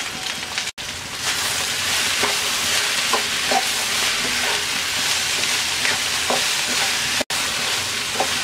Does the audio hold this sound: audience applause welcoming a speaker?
no